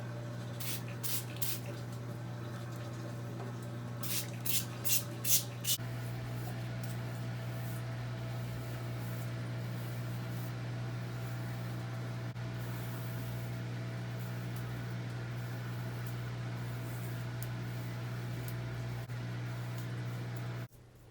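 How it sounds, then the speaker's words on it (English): Several quick pumps from a spray bottle of apple cider vinegar mist onto hair, crisp bursts in two groups near the start, then a steady low hum fills the rest. "I am spraying my hair with apple cider vinegar."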